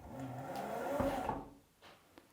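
A Blum soft-close drawer in a custom-built kitchen slides shut, a smooth rolling glide followed by a damped, muted settle and a couple of faint soft knocks, heard close with no talking.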